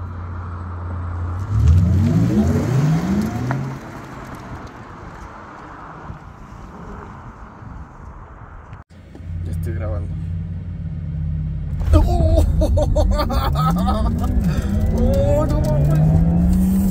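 A 2022 Porsche Taycan Turbo S electric car accelerates hard under launch control, giving a rising electric whine, road rumble and wind noise, while people inside talk over it.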